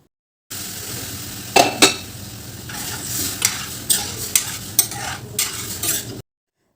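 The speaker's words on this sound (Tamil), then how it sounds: "வேக வச்சுருந்த கீரை பருப்பை இதில் சேர்த்துடலாம்." Cooked greens and lentils scraped and stirred in a sizzling cast-iron pan, with a run of metal spoon clinks and scrapes against the pan.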